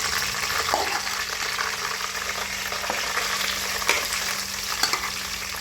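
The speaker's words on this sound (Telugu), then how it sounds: "కరివేపాకు వేసుకొని ఇలా ఒకసారి ఇలా ఫ్రై చేయాలి ఫ్రెండ్స్ తర్వాత చేపలు వేస్తున్నాం" Fish pieces frying in hot oil with curry leaves in a pan for a spicy fish curry, a steady close sizzle with a few soft clinks and crackles, and no voices.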